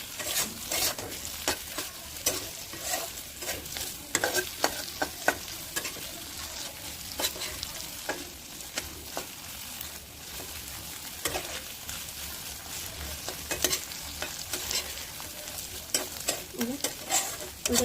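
Ingredients being sautéed in a pan give a soft, continuous sizzle, with frequent sharp scraping clicks as a spatula stirs and scrapes the pan bottom, fairly quiet and close, with no talking.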